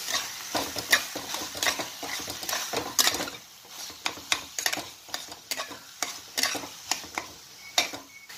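Yardlong beans stirred in a pan, with a utensil clattering and scraping in quick uneven strokes over a light sizzle, close up and with no voices.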